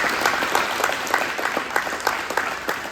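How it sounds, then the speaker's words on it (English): A crowd at a high school basketball banquet honoring seniors claps steadily and fairly loudly, with dense, continuous applause and a few sharper individual claps standing out throughout. "So a round of applause for our"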